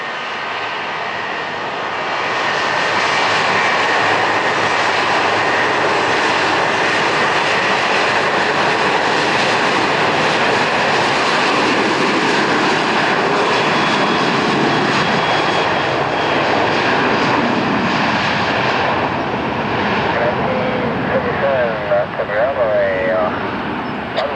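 Southwest Airlines jet airliner at Tampa airport, its engines roaring loudly and steadily at close range for most of the clip, with a rising whine and no talk.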